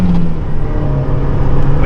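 The engine of a Lancia Delta Integrale runs close by with a steady, loud, low rumble and no sharp climb in pitch, while people talk over it.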